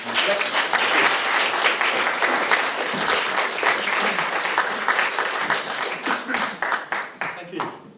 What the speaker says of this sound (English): Could you give him a wee round of applause?